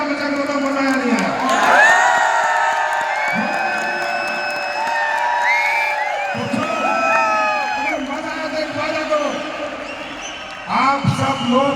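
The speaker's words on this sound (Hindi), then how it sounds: "तो जोर से ताली बजा के हल्ला मचा के बताओ मजा आया नहीं आया?" A large stadium crowd at a big Delhi event cheers and whoops in sustained waves, swelling loud early then carrying on, with a voice over the PA cutting in and out above the noise.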